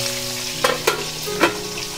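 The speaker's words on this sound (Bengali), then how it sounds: "একইভাবে বাকি মাছগুলোকে ভেজে নিচ্ছি" Tangra fish fry in oil with a steady close sizzle, broken by three sharp scraping clicks from stirring or turning the pieces.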